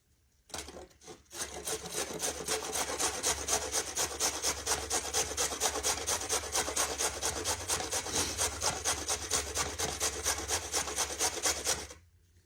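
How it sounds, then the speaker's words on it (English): A fresh carrot is grated by hand on a box grater for cabbage slaw in a home kitchen, a steady rapid rasping scrape in quick regular strokes, close and fairly quiet, with no talk. "I'm going to grate it with the same size that I grated the slaw with."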